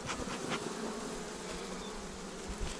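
Honeybees swarming around an opened hive as brood frames are inspected, a dense, steady buzzing close by with no voices over it.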